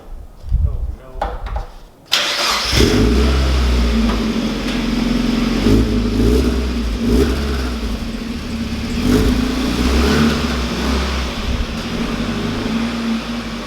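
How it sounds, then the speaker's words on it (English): A Mazda Miata engine fires up after a brief quiet moment, then idles and revs with a raspy exhaust note, steady and close throughout. "So the exhaust note had a raspy sound."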